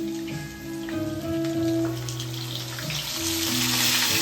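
Water splashed into hot oil in a home kitchen pan, giving a steady, loud broadband sizzle and crackle that runs the whole time beneath constant tonal background hum.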